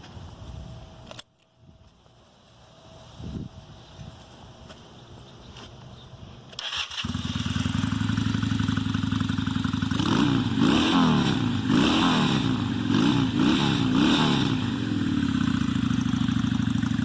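A 1995 Honda Shadow VLX custom bobber engine cranks and fires up after some clicks, then idles loudly and revs repeatedly in uneven bursts.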